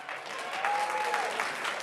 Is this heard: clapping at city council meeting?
yes